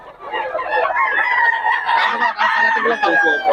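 A Boston Sweater rooster at an outdoor market crows loudly and close, a long strained cock-a-doodle-doo stretched over several seconds with clucking breaks, other birds faintly behind.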